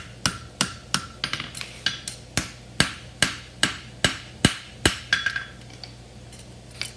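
Metal hammered against an anvil to tighten the toe, held at an angle near the bick: about fourteen sharp, ringing strikes in a steady rhythm, close and loud, then a short quiet stretch at the end.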